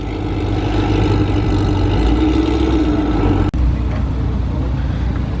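A hybrid-turbo Ford Focus ST engine runs steadily, a loud, close, low rumbling drone that holds even throughout with a brief cut near the end.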